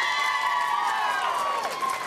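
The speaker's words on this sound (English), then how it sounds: "could we have a round of applause for your wonderful principal?" A school audience greets its principal with a brief burst of cheering and clapping, raised crowd voices and whoops layered over a close, dense roar.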